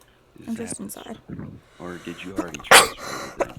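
A person sneezes once, a sharp burst amid ongoing conversation in a game session. Several people talk before and after it.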